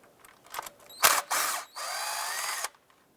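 Power tool, likely a drill or impact driver, running off 8mm valve cover studs on a 2001-2007 Ford Escape, several short bursts then a longer whirring run with a ratcheting edge, close and loud, no talk.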